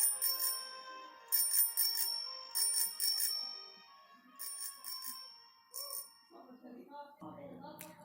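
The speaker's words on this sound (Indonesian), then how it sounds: "bel sepeda-sepeda itu mulai berdering 10 kali" Bicycle bells ring in quick bursts of repeated dings, several separate clusters spaced across the clip, bright and fairly close, with a few soft low thuds near the end.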